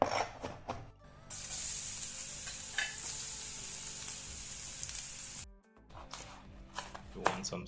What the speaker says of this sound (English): To saute we need a little oil. Let it get hot. Add some minced garlic.